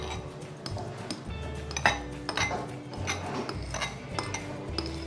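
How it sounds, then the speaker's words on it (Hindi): Two eggs are chopped into small pieces, with close clinking and tapping of metal utensils against a dish in an irregular rhythm, and no talk. "ये मैंने 2 लिए हैं और इसको हम करेंगे छोटे छोटे पीस में"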